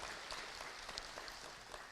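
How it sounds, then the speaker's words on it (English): An audience at an International Yoga Day gathering in Edinburgh and Glasgow, UK, gives a steady, faint round of applause, a dense patter of many hands that holds evenly for a couple of seconds. "Please, a big round of applause for her."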